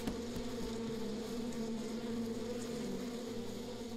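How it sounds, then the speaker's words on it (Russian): Video-game bees driven out of a tree hollow make a dense, continuous buzzing swarm drone, loud and steady, over a low repeating musical background. "Пчел сейчас выгонять буду,"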